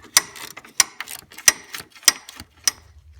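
A ratchet with an extension and 8mm socket turns a radiator fan bolt on a 1994-2004 Ford Mustang, giving five sharp, evenly spaced ratcheting clicks with quieter clatter between them, close and distinct.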